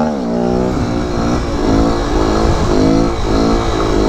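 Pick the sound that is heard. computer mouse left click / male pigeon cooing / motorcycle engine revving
motorcycle engine revving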